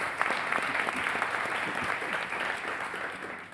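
Conference audience at a policy forum giving a round of applause: steady, dense clapping from a large hall, fairly distant and even, tapering slightly at the end.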